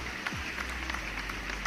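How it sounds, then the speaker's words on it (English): Brief audience applause for a health show host, a soft, even patter of clapping throughout with faint crowd noise behind it. "Thanks for the applause."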